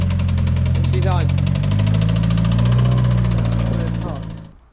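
The 4B11 engine of a Mitsubishi Evo X idles with a loud, steady rumble close by, then fades out at the end as voices talk briefly over it.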